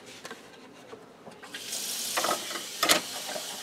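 Water runs from a kitchen tap as food is rinsed in the sink, starting as faint trickles and splashes, then rising into a steadier louder gush with a few sharper spatters near the end.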